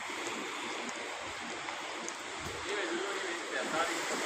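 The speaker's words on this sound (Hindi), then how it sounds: "ये समुंदर की छाल देखो आई है जी।" Sea waves washing onto the seashore during a fishing outing, a steady close wash of surf with wind, swelling slightly toward the end.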